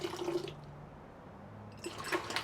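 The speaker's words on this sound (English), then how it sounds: "Add some water until I have exactly 2 liters of liquid" Water is poured into beer to make a brine, running and splashing in two short bursts at the start and end with a quieter pause between.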